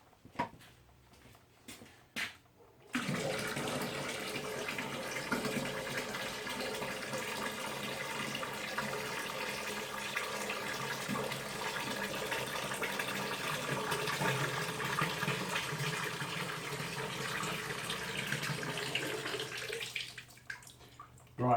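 Water pours steadily into a bucket during a glue strength test, a loud continuous gushing fill lasting about seventeen seconds after a few brief knocks, then cutting off.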